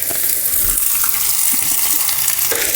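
Vegetables fry in peanut oil in a pan, a steady close sizzle and crackle running throughout with a few faint stirring knocks and no talk.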